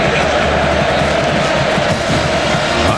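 A packed stadium crowd roars steadily at Kyle Field during the 2021 Alabama versus Texas A&M college football game, a dense, continuous wall of cheering with a commentator talking over it.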